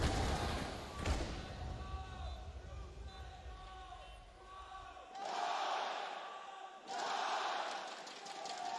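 Stadium crowd at an esports Counter-Strike grand final in Dallas roars in broad swells, loudest near the start and again in two surges later on, with commentary speech over it.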